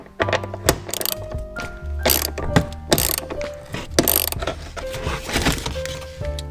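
A ratchet wrench loosens the 14 mm bolt holding the rear seat belt in a Nissan 240SX, giving quick, close metallic clicking bursts with pauses between strokes.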